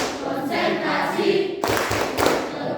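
Rhythmic hand clapping by a group in a counting clap game, steady claps filling the clip with a sharper, louder burst of claps near the end.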